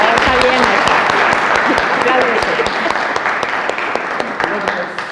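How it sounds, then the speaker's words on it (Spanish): An audience applauds at a book presentation on herbal medicine, dense clapping sustained throughout and slowly tapering toward the end. "le damos un fuerte aplauso"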